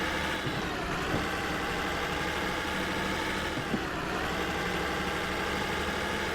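Steady, subdued engine drone of a Freightliner Cascadia long-nose American truck in the Truck Simulator Ultimate driving game, a constant low hum running throughout with no talk over it.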